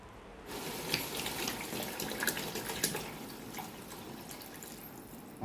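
Water poured into a cooking pot for vegetable biryani, a soft steady pouring and trickling with a few splashy drips, faint and close, without speech.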